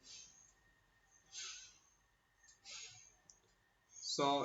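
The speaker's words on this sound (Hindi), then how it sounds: "जैसे ही हम इसे कंफर्म पर क्लिक करेंगे" A single soft mouse click lands on a confirm button while approving a WhatsApp Business API utility template, set among quiet room noise and a few breathy bursts.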